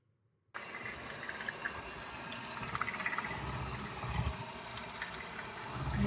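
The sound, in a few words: pouring a cup of milk into batter bowl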